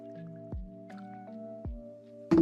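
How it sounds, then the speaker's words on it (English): Water is drunk from a container: a few soft liquid squishes and gulps, spaced about a second apart, close by and quiet, ending in a short louder splash. "Gonna get a little drinkies of water."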